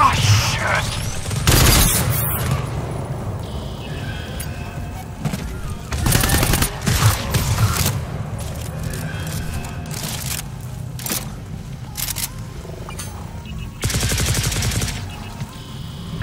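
Gunfire in the co-op shooter GTFO, aimed at a charger enemy: bursts of rapid shots recur in dense clusters over a steady low rumble of game noise, with loud peaks coming in several distinct volleys.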